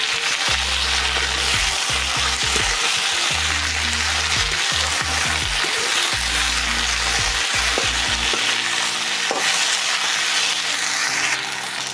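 Chopped lofa greens hit hot oil in a pan where potatoes were just fried, giving a loud, steady sizzle and crackle throughout, with clattering stirring strokes from a utensil in the pan.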